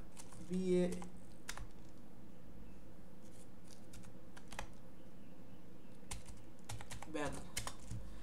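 Typing on a computer keyboard, a scattering of faint, quick key clicks with quiet gaps between them and a few short bursts of keystrokes.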